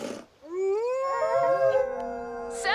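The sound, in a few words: wolf pack howling in a cartoon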